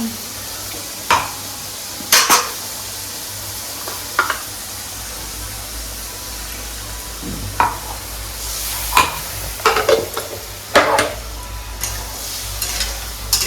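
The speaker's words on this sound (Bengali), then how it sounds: "আমি মশলাটা ভালো করে ভেজে নেবো।" A coriander leaf spice paste frying in a pan while a spoon stirs it, a constant sizzle broken by irregular scrapes and clinks against the pan, near and without speech.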